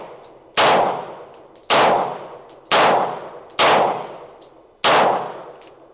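Five sharp, loud pistol shots from a Springfield Prodigy fired through a magazine of cheap ammunition, spaced roughly a second apart with uneven gaps, each with a ringing decay, plus faint metallic clinks between shots.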